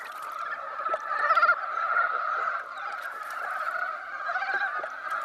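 Frogs in the Asian wild calling in a dense, continuous chorus of nasal, honking croaks that overlap without a break, loud and fairly close.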